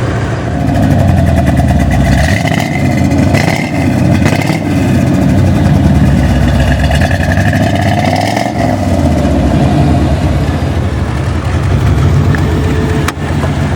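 A loud Corvette engine idles with a deep, rough rumble and revs up several times, filling the clip steadily from start to finish with no talking.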